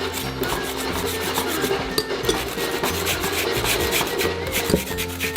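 Ice being scraped by hand into fluffy shavings for homemade watermelon bingsu, a steady close rasping and rubbing that runs unbroken throughout with no talking.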